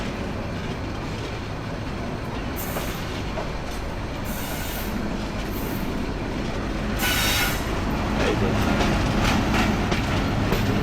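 The Sirajganj Express rolls through Dhaka's Airport railway station, a loud, unbroken roar of wheels and carriages with bursts of high metallic squeal as it passes close by.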